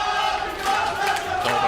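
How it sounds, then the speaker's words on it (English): A crowd at a Tekken fighting-game tournament cheers and roars loudly, a dense, continuous swell of many voices with a few higher shouts rising through it. "Oh, the crowd is going in."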